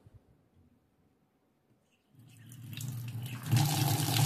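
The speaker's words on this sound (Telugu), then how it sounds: "ఫుల్ హై స్పీడ్లో వస్తున్నాయి ఫ్రెండ్స్ వాటర్ మాత్రం" A kitchen sink tap fed by a shed's motor-filled tank stays near silent, then bursts on with water rushing out hard, a loud, steady hiss and splash that grows stronger and keeps running to the end.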